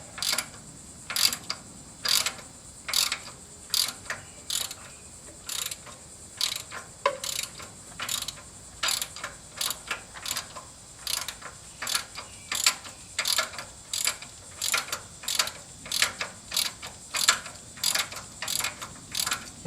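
A ratchet wrench backs out a timing cover bolt on a 1995 Ford F-250 4x4, with a long series of quick, regular clicking strokes close by, broken by brief pauses between pulls.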